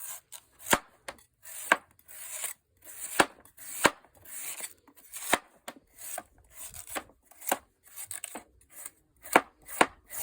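Repeated sharp knife chops on a wooden board, chopping sugar beets by hand, irregular but steady, close and crisp with brief scraping between strokes.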